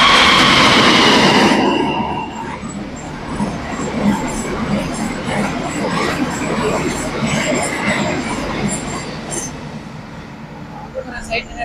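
A train passing close by, with a loud roar at first, then a long steady rumble of rolling wheels and rattling carriages with faint clicks and squeals, under talk.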